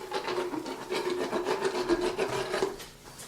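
Dental rasp filing a horse's teeth: a close, continuous scraping with a repeated back-and-forth rhythm and a steady ringing tone under it, fading out at the end, with no speech.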